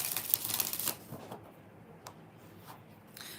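Tarot cards are shuffled close by, a quick burst of riffling for about a second followed by a few softer taps and slides of the deck, with no talking.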